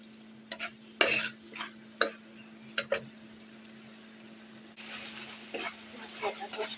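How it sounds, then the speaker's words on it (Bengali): A spatula scrapes and stirs spice paste of coriander powder and ginger-garlic paste in a pan, a series of sharp, close clacks with soft sizzling underneath and a steady low hum. "মশলাটা ভালোভাবে কষিয়ে নেব।"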